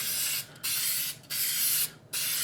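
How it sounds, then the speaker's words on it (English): Spray adhesive hisses from a shaken aerosol can in a fan pattern, in three steady bursts of about half a second each separated by short pauses, loud and close. "it's going to allow me to spray it with the adhesive"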